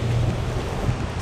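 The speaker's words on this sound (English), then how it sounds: "it's pouring." Heavy rain pours outdoors during a roadside motorcycle breakdown, a loud steady rushing wash with low rumbling wind noise and no talk.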